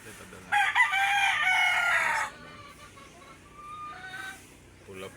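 A rooster crows once, loud and close, a long harmonic call lasting nearly two seconds, followed by a fainter crow from a farther bird, in a Filipino backyard where breeding gamefowl are being selected.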